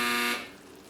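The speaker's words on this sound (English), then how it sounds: "The alarm just went off. We don't know if that's the right one. That's the dryer." Clothes dryer alarm in a busy home laundry, a loud steady electronic tone with strong harmonics that cuts off about a third of a second in, leaving faint room noise.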